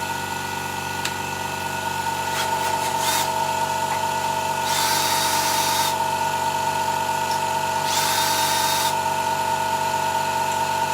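A power drill whirs steadily while unscrewing a faceplate from a wood lathe during burr bowl turning, a continuous motor hum broken by a few brief louder bursts of buzzing.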